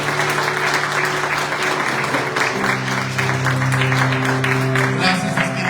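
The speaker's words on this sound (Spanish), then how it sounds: "¿Cuántos dan un aplauso al Señor?" A church congregation claps together in a dense, steady wave of applause that lasts throughout, with sustained keyboard or organ tones ringing beneath the clapping.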